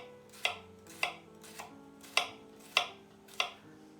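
A paring knife chopping an onion on a cutting board, six crisp, evenly spaced knife strikes with quiet pauses between them, close and clean with no voices.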